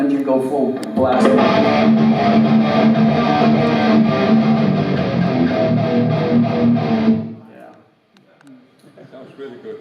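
Loud, heavily distorted electric guitar at a guitar clinic blasting at full volume for several seconds, then cutting off abruptly into quieter noise and a bit of sound.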